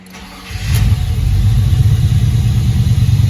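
A Chevrolet Impala engine cranks briefly and catches, then settles into a steady, loud, rumbling idle close by.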